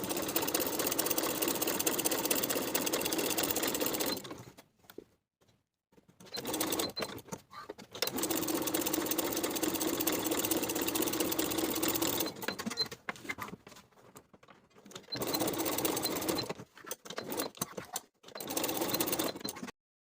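A home sewing machine stitches a strap onto a weekender bag pocket, running in loud, steady bursts of rapid mechanical whirring separated by short pauses, close and alone.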